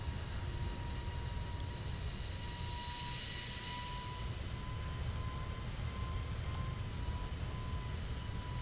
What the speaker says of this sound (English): Listen to the engine. You see, there's something wrong with the engine.